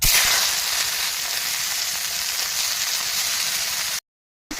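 Sour leafy greens frying in hot oil, a loud steady sizzle that holds evenly for about four seconds, then cuts out abruptly, with no talking.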